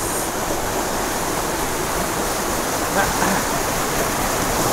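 Rushing water from a second, larger tropical waterfall, a steady broadband roar filling the whole clip with constant, close, loud spray and no breaks.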